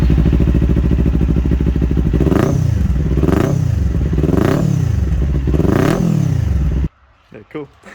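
A motorcycle engine idles loudly up close, then is revved four times in sharp rising and falling bursts before the sound cuts off and a few words of talk follow.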